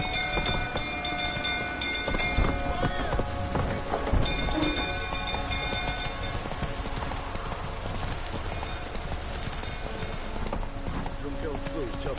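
A horse's hooves clatter and clop continuously over a busy, rumbling background, with a voice talking over the sound partway through.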